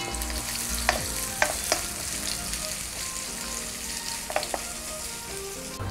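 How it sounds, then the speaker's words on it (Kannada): Onions, green chilli and fennel fry in a pan with a steady, close sizzle, and a few sharp taps of stirring break through the sound. "ಈರುಳ್ಳಿ ಸ್ವಲ್ಪ ಫ್ರೈ ಆಗಲಿ."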